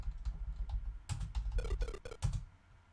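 Quick bursts of clacking computer-keyboard keys during play of the MS-DOS game Archon, with irregular taps of varying loudness heard close.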